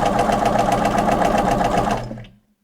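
A sewing machine runs a fast, steady stitch over pressed-open quilt seams, loud and close, then winds down and stops.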